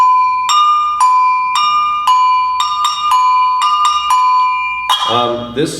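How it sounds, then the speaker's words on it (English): An agogo double bell is struck in a steady rhythm, bright metallic tones ringing out, ending in a brief flurry of clacking strikes. "Agogo is a Brazilian double bell, two different bells of different pitch"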